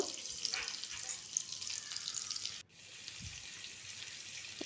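Onions deep frying in hot oil make a dense, steady bubbling sizzle throughout, close and fairly loud, with a brief dip in the middle and a soft low knock.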